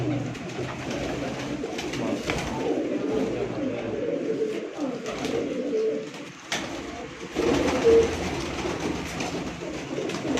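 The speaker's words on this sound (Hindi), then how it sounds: "माशाल्लाह जी बड़ा प्यारा सियालकोटी कबूतर है" Sialkoti pigeons coo softly and repeatedly nearby on a rooftop, their low throaty calls rolling over a murmuring background with a few faint bird chirps.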